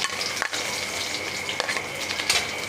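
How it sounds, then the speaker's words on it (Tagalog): Garlic sautéing in a pan for lumpiang tongue, a bright steady sizzle broken by a few sharp utensil scrapes and clinks, no talking. "Gisa na tayo."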